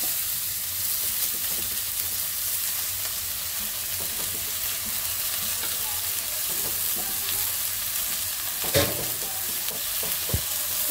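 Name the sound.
leafy greens frying in hot oil in pan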